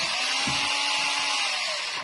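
A 9.44-volt cordless drill run off a 12-volt supply spins a homemade honey extractor, giving a steady, close whirring motor whine with a bright high-pitched buzz that holds at an even speed throughout.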